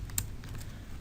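A few computer keyboard keys are tapped, space and enter among them, as quick light clicks close by in a quiet room, one sharper press standing out.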